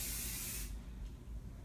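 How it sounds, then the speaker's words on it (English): One quick burst of fine mist from a facial spray bottle, a short airy hiss that cuts off abruptly and leaves a quiet room. "I just want to do a little tiny zigzag right down the center, just like I'm spraying the face with water."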